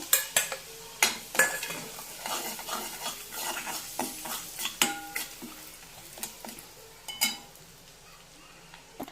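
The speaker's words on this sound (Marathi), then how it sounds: "आता हे तिखट परतून घेऊ।" A spoon stirs and sautés ambari masala, red chilli powder and a little turmeric in a hot pan for a Maharashtrian dilpasand bhaji, with repeated sharp scrapes and knocks over a soft, steady sizzle and no talking.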